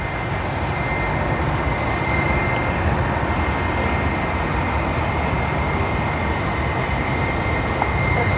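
Philippine Airlines airliner bound for Manila at Sydney Airport, giving a continuous broad jet-engine roar that holds steady and loud throughout, with no voices.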